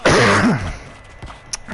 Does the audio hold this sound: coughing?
yes